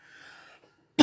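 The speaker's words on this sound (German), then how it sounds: "Geht's wieder los mit meinen Husten?" A single sharp cough bursts out loud and close at the very end, after a faint moment of quiet.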